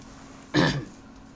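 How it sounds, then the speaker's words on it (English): One brief, sharp throat clear, close to the listener, over a quiet steady hum. "me clearing my throat a lot"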